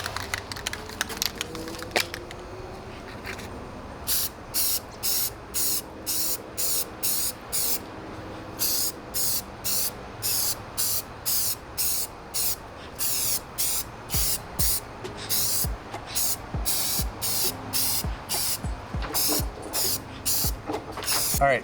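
A can sprays paint onto a custom Halo Infinite sidekick model in many short, evenly spaced hissing bursts. The bursts come close up and follow a steady rhythm throughout.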